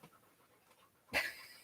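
A dog pants heavily beside a laptop, a quiet background hush giving way to one short, loud burst of breathy panting near the end.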